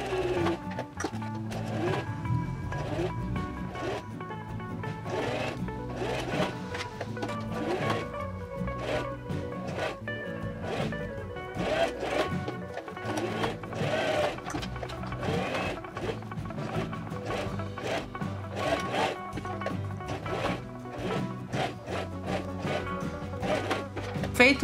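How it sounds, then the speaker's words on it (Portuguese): A home sewing machine stitching closed the small pleats of a fabric face mask, running in a steady rapid chatter with short pauses while someone speaks over it in Portuguese. "Então vamos pra máquina agora fechar todas essas preguinhas aqui."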